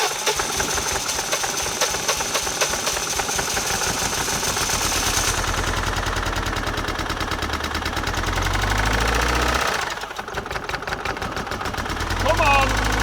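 Old Rover engine, unstarted for 20 years, cranking over and over in a fast rough chugging rhythm, loud and close, with voices speaking over it.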